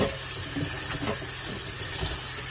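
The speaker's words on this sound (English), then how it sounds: "we're just going to wash them together. Wash them." Fresh spinach gets washed under running water, giving a steady hiss with faint splashing and rinsing sounds that continue throughout without any talk.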